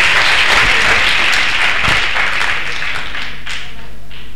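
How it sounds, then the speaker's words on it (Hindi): Loud audience applause at a farewell ceremony, close and dense, many hands clapping evenly, then easing slightly in intensity toward the end. "अरे भाई तालियां बजाइए"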